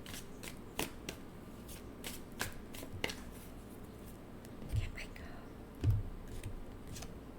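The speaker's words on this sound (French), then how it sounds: "Je vais vous sortir une autre carte." Tarot cards being shuffled and drawn by hand, heard as quiet scattered flicks and papery snaps with a couple of louder slaps near the end.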